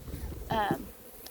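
Honey bees at a hive being set up for winter give a brief, close, rising buzz over a faint background hum.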